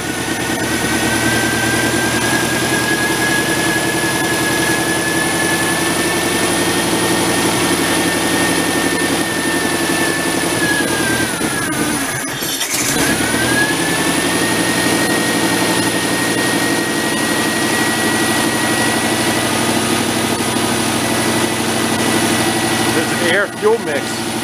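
An old tractor engine running steadily with its idle speed turned up, a loud continuous mechanical drone with a whining tone that dips briefly and recovers midway. People speak over it.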